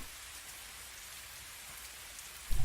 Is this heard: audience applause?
no